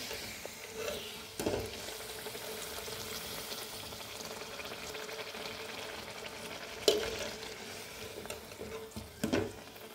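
Puri dough, seasoned with ajwain, cumin, chilli, salt and turmeric, fries in hot oil with a continuous crackling sizzle and a few louder splashy bursts as it is stirred and turned.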